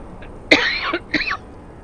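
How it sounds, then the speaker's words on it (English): Two harsh coughs from a person, close and clear, a loud first hack followed by a shorter second one, with quiet between. "Makes me cough just hearing about it."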